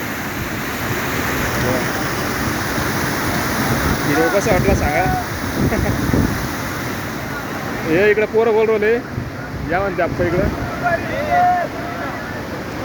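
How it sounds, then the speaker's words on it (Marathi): Floodwater rushing over a bridge during heavy rain in an exceptional flood, a constant roaring wash close to the microphone with wind buffeting, while several people talk and call out over it. "एवढं असं खूप पाणी बघा असं पुलावून जायला आलं बघा पाणी"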